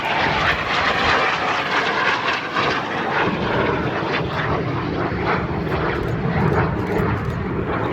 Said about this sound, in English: Now the two aircraft coming in opposition.